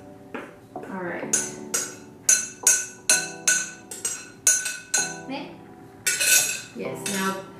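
Snickerdoodle dough is worked together with flour in a bowl, a utensil striking the bowl in a quick, rhythmic run of about a dozen bright metallic clinks and rings, each fading briefly before the next.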